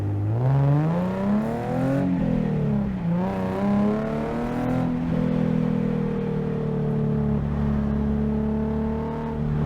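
A bolt-on modified Nissan 370Z is driven hard on a race track from the cabin, its engine droning loudly and continuously with rising revs, shifts and sustained pulls.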